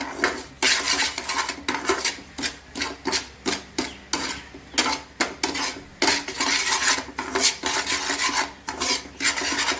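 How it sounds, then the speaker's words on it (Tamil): Semolina roasting in ghee while a spatula scrapes and stirs it around a pan, rapid rhythmic rasping strokes with metallic clinks, close and continuous, no speech. "நம்ம இந்த ரவையிலே இந்த நெய்யை வந்து நம்ம கொஞ்சம் மீடியமாக ஃப்ரை பண்ணிக்கலாம்"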